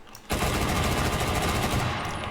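Rifle fire in the WWII shooter Enlisted, fired without recoil control: a loud, rapid burst of close shots running nearly continuously after a brief quiet start.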